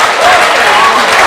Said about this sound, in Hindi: पुरजोर तालियों से इस्तकबाल करें दोस्तों